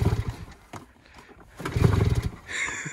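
A snowmobile engine being pull-started: a couple of sputtering, uneven bursts of engine firing that catch briefly and die, loud and close, with a little chatter nearby.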